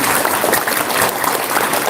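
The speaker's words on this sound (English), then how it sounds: "Let's give another big round of applause to all of our players" Sustained audience applause at a school 5th/6th grade spelling bee, a dense steady wash of clapping for the players that fills the whole moment without pause, with no voices audible over it.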